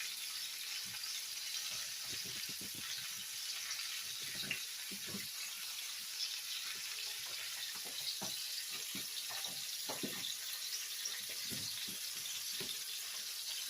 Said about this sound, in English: So while this is searing